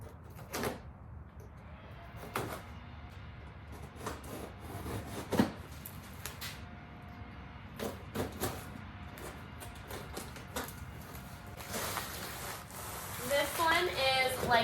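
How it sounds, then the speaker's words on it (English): A box cutter slicing and tearing through cardboard boxes holding roof rack parts, with scattered scraping rubs, sharp rips and rustling at close range, louder bursts near the end, and a person speaking now and then. "We are going to use a box cutter and start with this one first."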